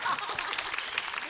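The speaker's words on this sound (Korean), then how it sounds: "여러분 큰 박수 부탁드립니다" Audience applause at a picture-book activists' experience-sharing event, a steady dense patter of many hands clapping for over a second, with faint voices mixed in.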